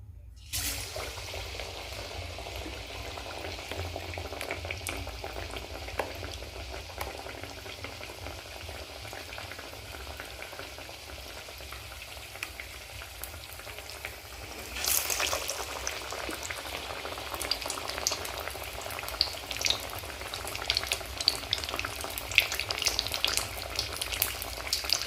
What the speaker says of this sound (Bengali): বেসনে ডুবিয়ে ডুবিয়ে কুমড়োগুলো আগে ভাজবো।